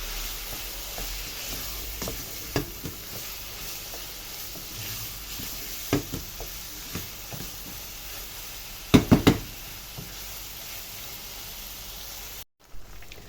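Minced meat being sautéed with onion and black pepper in a pan for béchamel pasta, a soft continuous sizzle under scattered scraping and clinking of a spoon against the pan, with a brief cluster of louder knocks.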